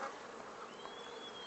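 Dense, steady buzzing of honeybees massed on a full hive frame in a backyard apiary in Haute-Loire, a close, continuous drone with a thin higher whine of individual bees passing near.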